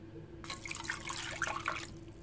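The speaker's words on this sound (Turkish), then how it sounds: "Arkasından suyu üstüne döküyoruz ve ocağa alıyoruz." Water is poured over a cinnamon stick and cloves in a heatproof pot, a soft splashing trickle that starts abruptly and runs for about a second and a half before stopping, faint and close.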